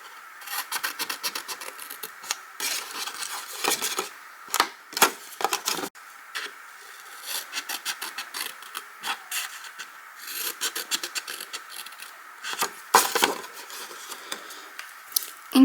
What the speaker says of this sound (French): Je vais découper toutes les lignes de marquage en fait.